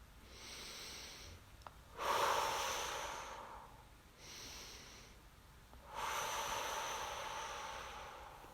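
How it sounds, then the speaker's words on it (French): Slow, deep breaths drawn during a guided sophrology relaxation session come as long soft airy swells, a few seconds each, close and quiet with no talk over them. "Nous pouvons bâiller, prendre des respirations plus amples."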